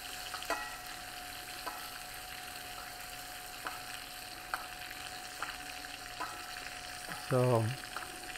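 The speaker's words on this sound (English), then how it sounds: "Sear it more. Add a little bit butter to the pan." Chicken thighs sear in butter in a pan, giving a steady, even sizzle throughout, with occasional light clicks and a brief louder clatter near the end.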